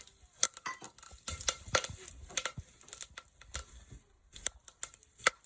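Mustard seeds, cumin and curry leaves fry in hot oil, crackling in a quick, irregular run of sharp pops and spits over a soft background sizzle.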